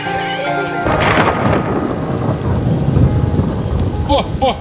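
Heavy rain pours while a deep thunder rumble rolls in and sustains, loud and close, with the tail of music at the start and small chirps near the end.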